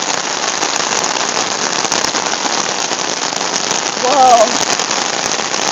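Heavy rain pours steadily in a thunderstorm, a dense, loud hiss that fills the whole clip, with a brief startled voice exclaiming near the end.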